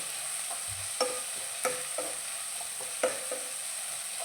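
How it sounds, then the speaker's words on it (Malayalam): Onions being sautéed in a pan for paneer masala curry, stirred with a utensil that gives several distinct scraping clicks over a steady low sizzle, close and fairly quiet. "2 സവാള കൂടി ഇതിനകത്തിട്ട് നന്നായിട്ട് വഴറ്റാം."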